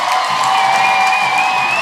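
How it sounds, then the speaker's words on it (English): A stadium crowd at a 2013 Seattle Reign FC vs. Chicago Red Stars women's soccer match cheers Megan Rapinoe's introduction with a brief, sustained roar of voices and whoops. "you hear the reaction from the crowd to the introduction of Megan Rapinoe"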